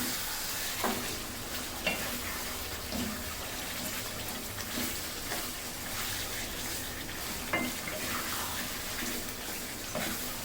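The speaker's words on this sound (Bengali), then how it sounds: "আমি ভালো মতন তেলের সাথে মশলার সাথে আমি চিকেনটাকে কষিয়ে নিব" Chicken fries in oil with spices for Bengali reshmi chicken, a dense steady sizzle punctuated by repeated scraping and clacking strokes as the pieces are stirred around the pan.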